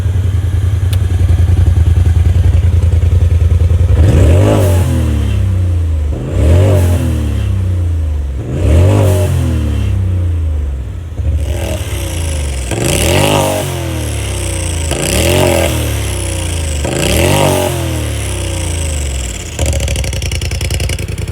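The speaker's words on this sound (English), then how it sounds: "And here's the exhaust with the valve open." A 2019 Polaris RZR Turbo S four-seater with its exhaust valve open, revved hard in a steady series of sharp blips, each rising and falling back to a loud, rumbling idle, with no voices over it.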